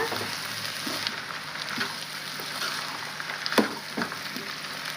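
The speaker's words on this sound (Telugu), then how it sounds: "తిన్న ఆయిల్లో బాగా ఒక ఐదు నిమిషాలు ఫ్రై కావాలా" Cabbage and chana dal frying in oil crackle and sizzle steadily at close range, with occasional sharper pops and stirring scrapes.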